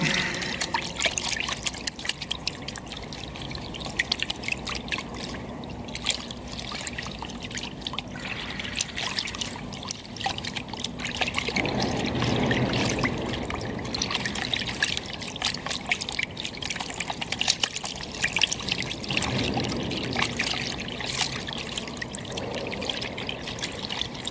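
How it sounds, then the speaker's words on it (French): Brush stirring paint in a bucket, a continuous wet sloshing and trickling with irregular swirls, swelling louder in the middle, heard alone without talk. "Je prends mon pinceau et je mélange."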